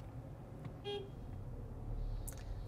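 A brief car horn toot rings out once from a 2024 Skoda Karoq amid steady low traffic rumble in Istanbul, followed moments later by a faint high chirp.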